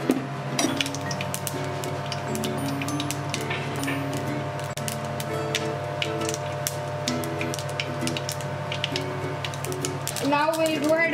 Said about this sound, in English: Till then, I'll cut the green chili.